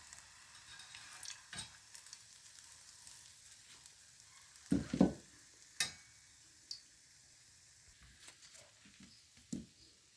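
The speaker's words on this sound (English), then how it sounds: "Guys, you can see now I'm frying my patha roll." Patha rolls frying in oil, a soft sizzle with scattered pops and crackles, close and fairly quiet, with a few louder bursts and no voices.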